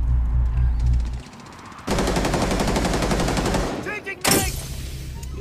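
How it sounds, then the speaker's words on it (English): Rapid automatic gunfire from a Rainbow Six Siege match, sustained bursts filling most of the clip with a short pause near the end before firing resumes, loud and close. "Yeah, he's shooting."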